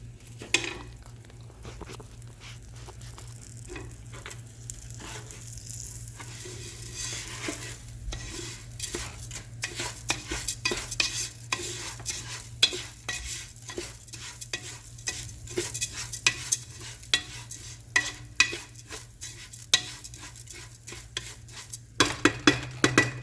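Black beans and rice stirred in a pan, a low steady sizzle under repeated scraping strokes of a utensil against the pan, growing busier and more rhythmic toward the end, close and moderately quiet.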